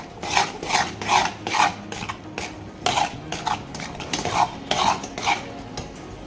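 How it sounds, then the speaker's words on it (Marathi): Gram flour roasting in a pan for besan ladoo, stirred slowly with a utensil that scrapes the pan in a repeated rhythmic rasp, close and clear, with no talk. "एकदम शांतपणे हे पीठ आपल्याला असं भाजून घ्यायचं"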